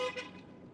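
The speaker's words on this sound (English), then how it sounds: "They weren't honking at us." Two quick car horn toots on a Las Vegas street, fairly close and brief, followed by fading traffic rumble.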